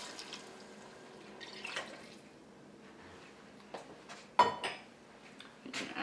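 Broth poured into a pot of vegetable soup with crushed tomato: soft, close liquid splashing and dripping with a few light clinks of the pot, fairly quiet throughout.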